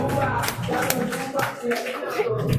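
Scattered audience clapping at a student panel discussion on the digital economy, uneven and brief bursts of hand claps mixed with voices talking over them.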